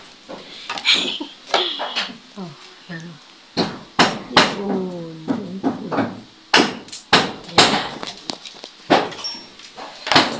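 Sharp hammer blows ring out irregularly on an apartment roof under construction nearby, mixed with clattering, while people talk over them.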